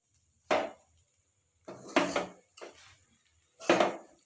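Bread stirred into upma in a pan, four separate bursts of a spoon scraping and clattering against the pan, close and fairly loud, with near silence between them.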